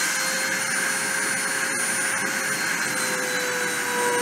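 A machining spindle spins steadily at 30,000 RPM during a deposition run, giving a continuous high-pitched whine with a broad airy hiss underneath, loud and unbroken throughout.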